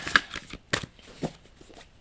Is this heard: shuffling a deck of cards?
yes